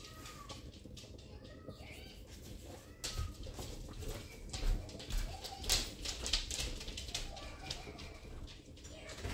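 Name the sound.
cat meowing on the TV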